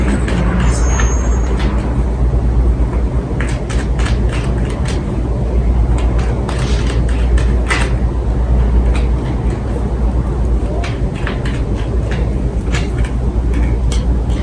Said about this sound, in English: I bet you can hear that truck passing by.